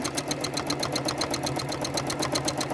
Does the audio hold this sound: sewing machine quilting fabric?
yes